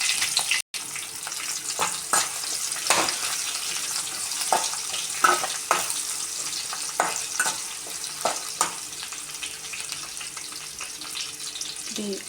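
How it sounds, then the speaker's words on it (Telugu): Sliced onions and split green chillies sizzle in a pan with a steady crackling hiss, punctuated by repeated scraping stir strokes, close and moderately loud with no talk. "ఆనియన్ కొంచెం ఫ్రై అయితే సరిపోతుంది ఆనియన్ ఫ్రై అయిపోయింది"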